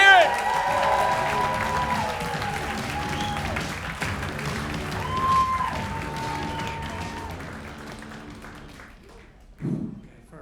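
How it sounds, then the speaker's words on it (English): Audience applause and some cheering at a comedy class show as a comedian takes the stage, a broad crowd wash under a speaking voice that fades out, ending with a near thump. "Ladies and gentlemen, how about get a big round of applause for our first act of the night, Manuel Lopez."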